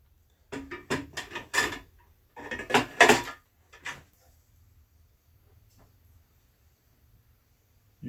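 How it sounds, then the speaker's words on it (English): Latch on a powder-coated removable mullion connector with an auto-connect electrical option working, giving a quick series of close metallic clicks and clacks over about four seconds, then near silence. "the latch is totally free to function"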